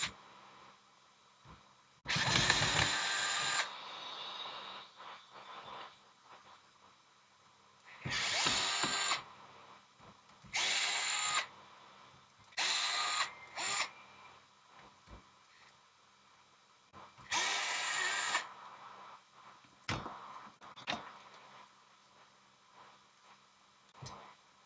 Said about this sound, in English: I just have to take these screws back out.